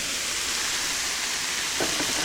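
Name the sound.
shrimp with shiitake and oyster mushrooms stir-frying in skillet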